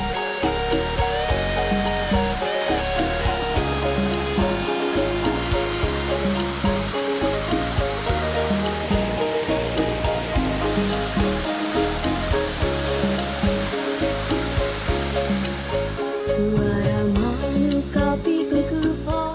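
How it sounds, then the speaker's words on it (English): Kipungat waterfall in the humid forest of Malaysian Borneo pours with a steady, dense rush of falling water, heard under a continuous layer of rhythmic music. "Kipungat waterfall provides some much-needed refreshment"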